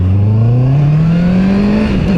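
Honda CB650R motorcycle pulling away hard in first gear from about 20 km/h, a loud, close engine note climbing steadily in pitch as it revs up, then easing slightly at the end.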